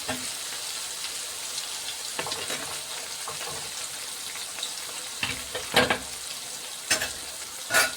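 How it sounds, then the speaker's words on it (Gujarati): Chopped tomatoes cook in a frying pan for urad dal with a soft, continuous sizzle, broken near the end by a few brighter clatters of the spoon against the pan. "હવે ટમેટાને ઘડીક વાર આપણે ચડવા દઈશું।"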